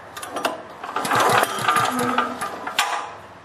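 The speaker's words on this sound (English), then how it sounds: "So I'm going to hold it, now pull the engine over." Generator engine with no ignition spark is pulled over by its recoil start, giving a quick run of rapid mechanical chugs and rattles, fairly loud and close, then fading with a last clatter.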